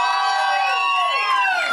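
A large crowd cheers and whoops continuously before a performance in a concert theater, loud and sustained with overlapping shouts and no break.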